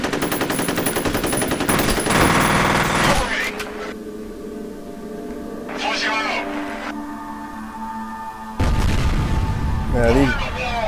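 Weapon fire from a trap gun in the video game F.E.A.R., loud rapid bursts of shots with booming impacts, stopping and starting in two main volleys with quieter game sounds between.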